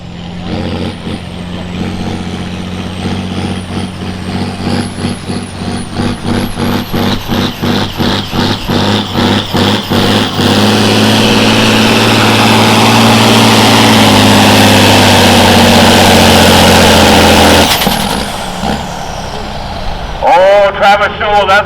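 John Deere 6030 tractor at a tractor pull, its heavy engine roaring loud and sustained, revving with a pulsing rhythm that builds into a steady full-throttle drone before cutting off near the end, with an announcer talking over it.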